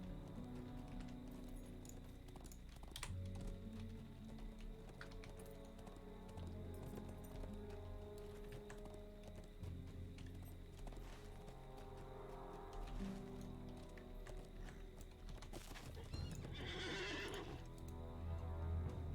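A war steed's neigh and clip-clopping hooves in a video game. The hoofbeats patter on and off, and a rising whinny comes near the end, all at a fairly quiet level.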